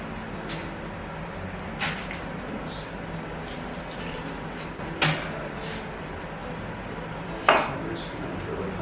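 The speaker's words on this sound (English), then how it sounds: "I'm just going to do a quick chop." A knife chops food on a cutting board for beef tacos, with a few sharp, separate close knocks spread out over a steady low kitchen background.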